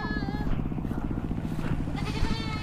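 Goats at a farm cafe bleat in wavering, nasal calls, mixed with a speaking voice and a steady engine-like rumble underneath, fairly close.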